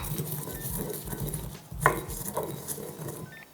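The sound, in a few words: grinding coriander seeds with a mortar and pestle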